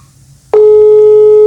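A telephone line tone sounds while a call is being placed: after a brief quiet hiss, a loud, steady, unbroken electronic tone starts abruptly and holds to the end.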